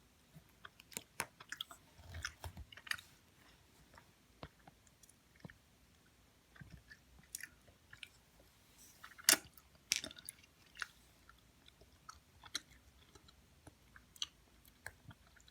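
Harry Potter marshmallow-flavour jelly beans are chewed close to the mic, giving quiet, irregular soft squishes and sticky bites with sharper clicks scattered among them, and no talking.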